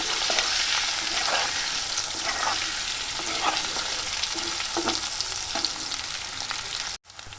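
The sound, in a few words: potatoes frying with turmeric in oil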